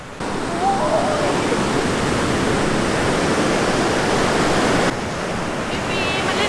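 Sea waves at a beach, a loud continuous rushing wash of surf that fills the whole clip, with a faint voice briefly audible beneath it.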